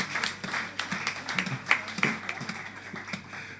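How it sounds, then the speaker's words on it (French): A crowd claps in an uneven burst of applause, hands striking irregularly and fading slightly toward the end. "Applaudissez pour Papa Dieu."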